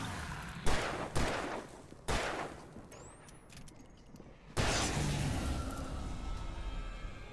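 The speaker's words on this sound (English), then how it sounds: "that was a flare gun, and what I meant to use was a revolver" A flare gun fires in the video game Alan Wake amid several sharp, loud gunshot-like bangs spaced about a second apart, with a hissing whoosh and a sustained roaring burst near the end.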